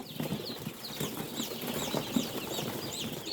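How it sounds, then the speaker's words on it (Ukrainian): Baby chicks about two days out of a home incubator peep in quick high chirps, repeated steadily over a soft rustling background at close range. "Хочу зняти коротеньке відео про курчата."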